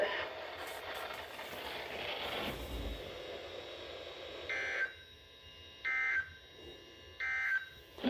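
Weather radio warning alarm tone from NOAA All Hazards Radio station KEC74 in Indianapolis sounds in repeated short steady tone bursts separated by gaps, after a stretch of broadband noise and radio background.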